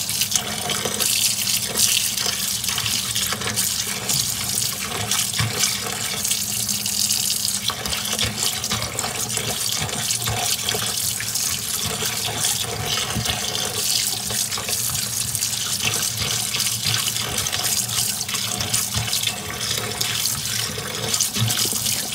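Cold water from a kitchen tap runs steadily over cooked taro in a sink, a loud continuous splashing gush that lasts the whole time, with no voices over it.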